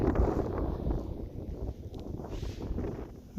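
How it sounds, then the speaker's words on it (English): Gusty morning wind in the Pyrenees mountains along the GR11 trail near Queralbs, buffeting the microphone with low rumbling surges and rustling that rise and fall over a few seconds. "It's windy this morning."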